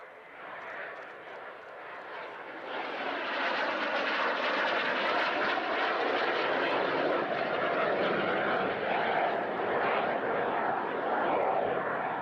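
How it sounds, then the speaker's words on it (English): An aerobatic airplane's engine at the RAF Cosford Airshow 2015 drones steadily overhead during a slow roll, rising from a softer start to a sustained loud, broad roar that holds at a distance. "make the aircraft keep going in a straight line while it's doing a slow roll"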